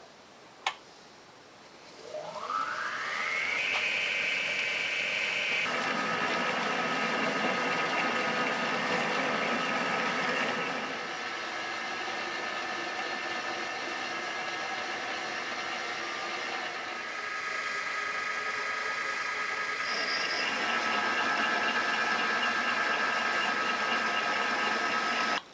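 A metal lathe's motor spins up and runs steadily with a tailstock drill feeding into the workpiece for a 1/2 inch deep hole, giving a sustained whine and hum from start to finish, loud and alone.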